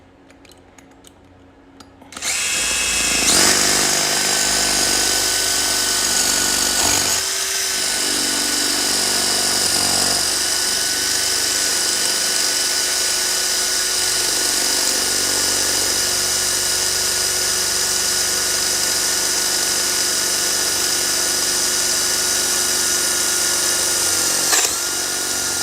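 A power drill starts up and runs steadily for more than twenty seconds with a loud, continuous whine that dips briefly under load, working past a broken drill bit lodged in the hole.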